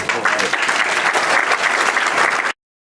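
A crowd claps steadily and evenly for a couple of seconds before it cuts off abruptly.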